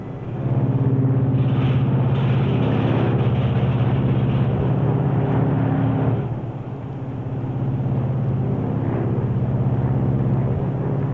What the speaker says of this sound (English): Okay, Hugh, bring in 1. Unfeathering 1.